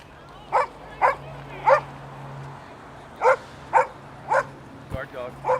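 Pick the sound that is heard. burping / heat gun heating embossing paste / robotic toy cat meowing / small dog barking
small dog barking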